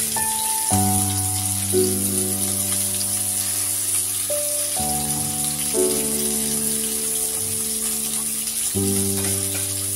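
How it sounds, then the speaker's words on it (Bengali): Steady hissing sizzle of chicken pieces frying in oil runs throughout, beneath sustained background music chords. "বেশ লালচে করে আমরা চিকেনটা ভেজে নেব।"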